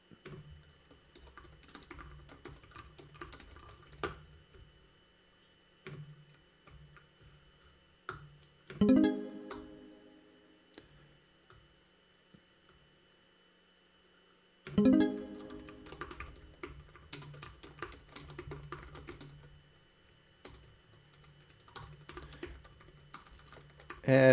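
Someone types code on a computer keyboard in quiet, steady runs of soft key clicks. Each run ends in a louder flurry near the middle and again late on, with faint talk in between.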